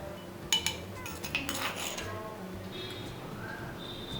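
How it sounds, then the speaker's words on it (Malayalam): Crushed ginger drops into a ceramic bharani jar while preparing curd soda, with a few sharp clinks and knocks of utensils against ceramic, followed by quieter handling noises. "ഈ ചതച്ചത് നമുക്ക് ഈ ഭരണിയിലേക്ക് ഒന്ന് ഇട്ട് കൊടുക്കാം."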